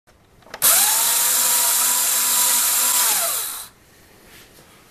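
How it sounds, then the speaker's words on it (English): A small electric motor in a paper shredder, opened up for inspection, whines steadily for about three seconds with a bright harmonic hum, then spins down and stops, loud and close. "Here we can see the armature when the motor's running"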